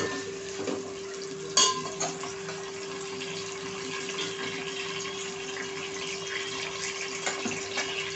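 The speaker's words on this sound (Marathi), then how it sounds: "सगळ्यात आधी टोमॅटो परतून घ्यायचे आहे।" Tomatoes sautéing in about four spoons of oil in a pan, a steady soft sizzle and hiss running throughout, with one brief utensil clink near the start.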